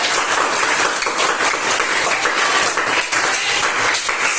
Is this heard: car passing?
no